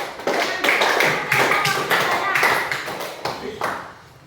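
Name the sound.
class clapping hands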